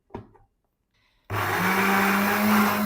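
Electric blender grinding ginger and garlic with oil into a paste, starting abruptly after brief kitchen clatter and then running loud and steady with a continuous whirring motor hum to the end.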